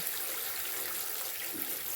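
A bucket filling with hot water from a tap for soaking orchid bark, giving a steady, even rush of running water with no pauses throughout, close and moderately loud, with no voices.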